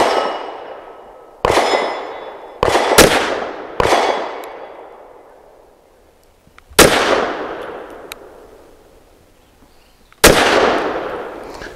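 A Walther WMP pistol fires about six sharp, loud shots at irregular intervals, each crack followed by a long ringing decay, with no voices.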